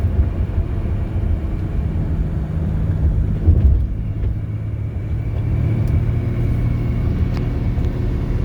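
A 1988 BMW 325iX cruises down the road with a steady low engine hum and tire rumble heard from inside, a brief swell midway, then an even drone with no talking.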